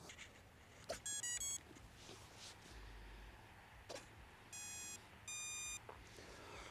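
A Radiolink A560 RC plane resting on the ground gives a few short electronic beep bursts after its LiPo battery is plugged in, with soft outdoor background noise between them.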